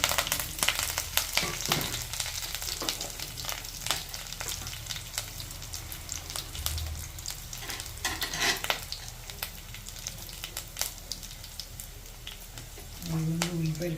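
Urad dal, garlic, dried red chilies, curry leaves, mustard seeds and cumin frying in oil for a tempering, a dense crackling sizzle with frequent sharp pops and stirring clatter, close and continuous, with a voice talking over it.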